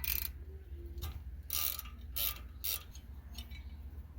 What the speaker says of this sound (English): To remove the rotor, you have this little screw right here. We're gonna go ahead and remove that.